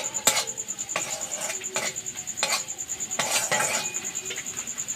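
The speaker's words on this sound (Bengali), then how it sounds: "এই মশলাটাকে আমি একটু ভালো করে কষে নেব।" Spice paste stir-fried with salt in a pan for a shrimp and snake gourd chorchori, rhythmic spatula scrapes and clinks against metal over a soft sizzle, no voices.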